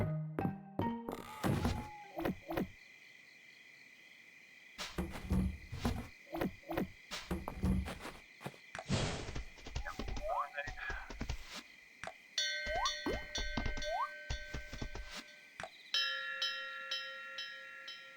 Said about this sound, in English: I didn't realize there were two different bell sounds until I just played them back to back there